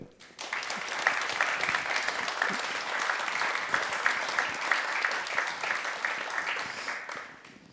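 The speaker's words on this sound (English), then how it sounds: "can I please have a big applause for Dave and Nienke." Steady, dense applause from an audience welcoming interview guests at an evening event, rising quickly, holding for several seconds and tapering off at the end, with no talk over it.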